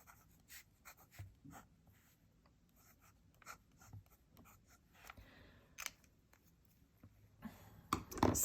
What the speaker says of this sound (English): let me just write